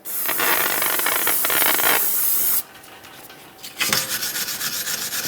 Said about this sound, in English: Use a wire brush, whatever you might happen to have.